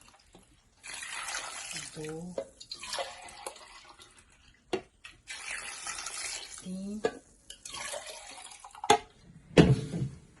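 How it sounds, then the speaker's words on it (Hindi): Water pours into a pot of mutton trotters in two steady stretches, with a splashy gush near the end, while a person talks over it. "पाए को अच्छी तरीके से गलाने के लिए 4 बड़े गिलास पानी के हम इसमें ऐड कर देंगे"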